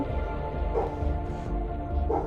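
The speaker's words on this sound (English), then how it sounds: "What's up other than my dog barking?" A dog gives a couple of short yips and whimpering barks indoors, faint and brief over a steady background of game music.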